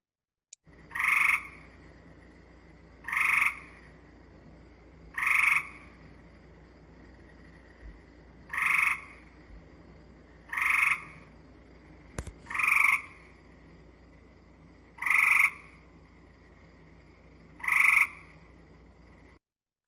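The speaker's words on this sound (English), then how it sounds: "So the gray has those whirring calls, and you can hear the pulses" Gray and Cope's gray tree frogs repeat a short musical trill about every two and a half seconds, eight calls in all, close and clear against quiet night background.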